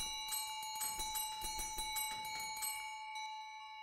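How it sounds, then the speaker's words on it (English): A rapidly struck bell in the game Phasmophobia, a fast run of bright metallic rings for nearly three seconds, then a fading sustained hum. "I think I broke the bell."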